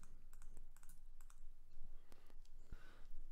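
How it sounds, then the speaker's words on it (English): A computer mouse left-clicked four times while editing an image in Photoshop, small crisp clicks spaced closely with faint background hum and other light clicks nearby. "Left click 4 times."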